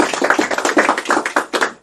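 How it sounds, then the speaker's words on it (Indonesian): An audience at an Indonesian gathering claps for a guest named Pak Martinus, a brief burst of dense, quick hand claps up close that fades out at the end. "Kita kasih tepuk tangan untuk Pak Martinus."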